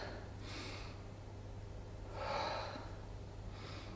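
Breathing during an alternating dumbbell lateral shoulder raise, three soft, airy breaths spaced a second or so apart, close and faint over a low steady hum, with no talk.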